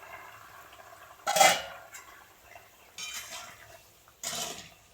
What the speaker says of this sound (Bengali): এবার আমি ঢাকাটা খুলে দেখবো সেদ্ধ হয়েছে কিনা।